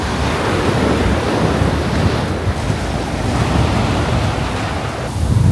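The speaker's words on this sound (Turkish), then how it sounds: "Bugün genel olarak rüzgarlı olduğu için biraz dalgalı." Choppy sea waves wash continuously into a wind-exposed cove at Karaburun, with strong gusts buffeting the microphone over the steady surf.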